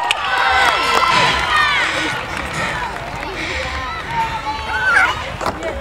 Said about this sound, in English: Okay, Lisa, come on, give her a cheer.